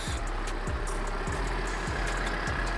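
A tractor engine idles with a steady low drone and regular rhythmic pulses, close and constant, with faint higher-pitched mechanical whine over it and no speech.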